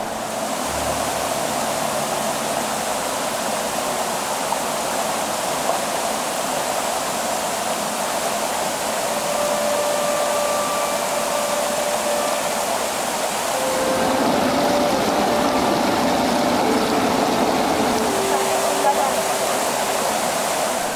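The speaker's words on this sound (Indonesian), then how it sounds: "Sungai mengalir membelah Lembah Kahung." A river flows steadily through the Lembah Kahung valley, its broad, continuous rushing wash swelling slightly louder partway through, with faint tonal sounds drifting over it.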